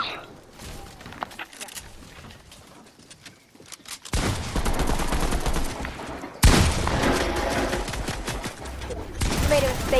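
Gunfire in the Fortnite video game, scattered shots at first under voices, then bursts of loud, rapid fire from about four seconds on, with a sharp louder volley near the middle.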